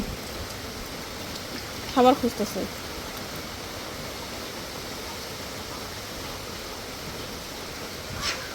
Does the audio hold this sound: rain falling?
yes